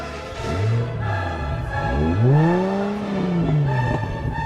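A manual-transmission 12-cylinder car with active exhaust revs hard several times, its engine note swelling and falling in pitch in repeated sweeps, loud and close with no talk.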